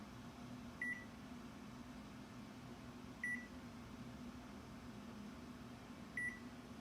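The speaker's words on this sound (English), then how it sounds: "I'm gonna set my oven, my stove for 120 minutes." A stove timer beeps faintly three times at evenly spaced intervals of about two and a half seconds over a quiet, low background hum in a kitchen.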